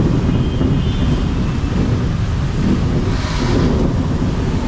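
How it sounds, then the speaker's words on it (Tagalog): Heavy monsoon rain after a typhoon pours down in a city street as thunder rumbles through it, a loud, steady roar with no voices. "May kasama pang kulog."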